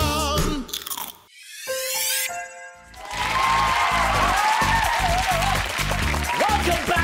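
Honey-glazed, lightly toasted breakfast cereal crunched close up, a run of sharp rhythmic bites and chews following a few seconds of bright chimes and jingle-like tones.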